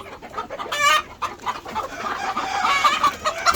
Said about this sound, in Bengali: এখানে টাইগার মুরগি আছে, আপনারাই দেখুন সাইজ এটা কত বড়